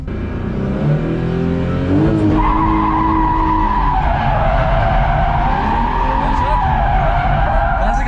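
A car drifting with loud, sustained tire squeal that bends in pitch over a steady engine roar, close by and continuous; people talk at times underneath.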